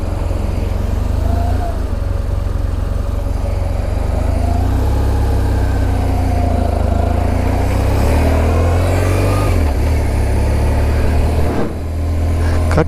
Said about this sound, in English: I got a big truck coming that way.